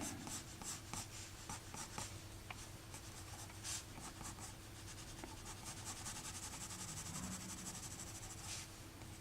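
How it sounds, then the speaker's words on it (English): A coloured pencil colours in a drawing of the Snowman with small elliptical strokes, giving a soft, steady scratching and rubbing close up, with no talking. "You do sort of, I suppose, elliptical kind of motions to colour in"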